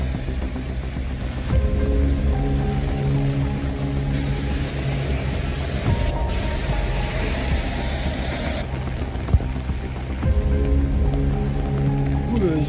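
Steady rain falls outdoors in front of a closed venue, a dense continuous hiss running throughout at moderate level, with some background hum and occasional faint voices underneath.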